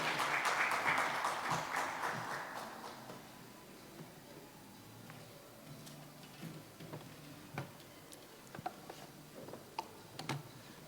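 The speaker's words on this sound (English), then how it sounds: "Round of applause as he makes his way to the podium." Audience applause at a bank SME clinic and tradeshow as a speaker walks to the podium, loud at first then dying away within about three seconds, followed by quiet room noise and a few faint ticks and taps.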